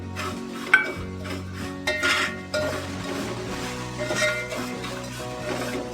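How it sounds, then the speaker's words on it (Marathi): Almonds and raisins clinking and scraping against a pan as they roast with vermicelli for sweet kheer, with steady stirring clatter and a few sharper metallic knocks, up close and without talk. "आता थोडा वेळ आपण हे बदाम टाकूया याच्यामध्ये भाजायला, आणि मनुके थोडे भाजून घेऊया त्याच्यामध्ये"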